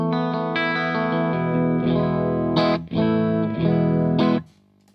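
An electric guitar played through a pedalboard on a straight clean setting, ringing chords strummed in a loud, sustained sequence with a few sharp re-attacks, then cut off to near silence at the end.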